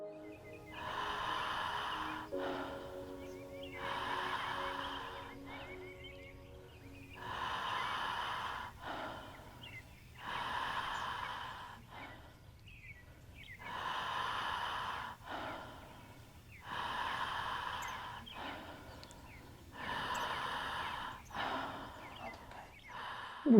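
Heavy rhythmic breathing from a group during a Transformational Breath workshop, with repeated loud inhale-exhale cycles about every few seconds, breathy and airy with no talking, plus a faint sustained tone early on.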